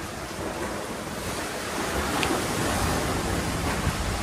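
Typhoon-driven waves surging and crashing at a Manila port area, a steady loud wash of surf and wind noise that swells slightly in the second half, with no clear speech.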